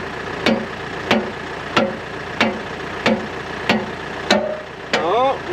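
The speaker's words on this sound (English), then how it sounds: "I'm going to have to pull the tractor forward a little bit." A farm tractor engine runs nearby with a regular rhythm of sharp clanking thumps about every half second, ending in a rising mechanical whine as the tractor is pulled forward.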